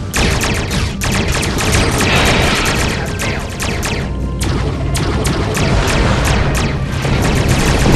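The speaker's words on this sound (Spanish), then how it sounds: "¡Nos están disparando mogollón!" Enemy gunfire in the Star Trek Online video game: a dense, loud, continuous barrage of shots and impacts that runs without pause from start to finish, with no voices.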